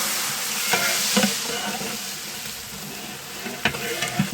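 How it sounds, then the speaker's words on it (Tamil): Tomatoes frying for a large batch of mutton biryani, 6 kg for about forty guests, hiss loudly in a big pot while a ladle scrapes and knocks in several distinct stirring strokes. "தக்காளி நல்லா வதங்கிடுது"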